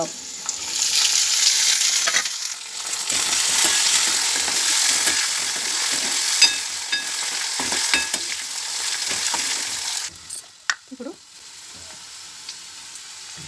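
Chillies frying in hot oil for a rava pulihora tempering, a loud steady sizzle with stirring scrapes, close up, fading to quieter crackles toward the end.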